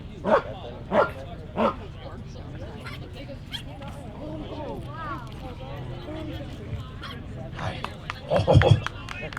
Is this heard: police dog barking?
yes